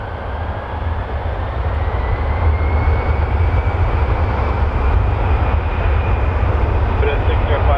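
Q400 turboprop airliner at Toronto Pearson Airport, a loud steady engine drone with deep low rumble and a faint rising whine, held throughout at close range as a voice talks beneath it.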